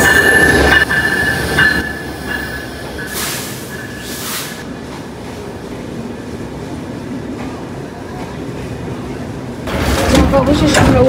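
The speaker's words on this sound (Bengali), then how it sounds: "এই তো আমাদের ট্রেন চলে এসেছে।" A passenger train arrives at a station at night, a loud rumble with screeching wheels and a piercing squeal, rattling cars that ease off as it slows, then a rising roar at the end, with people talking nearby.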